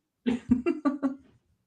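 A burst of five harsh coughs in quick succession, fairly close and loud, trailing off into a brief wheeze with no talking.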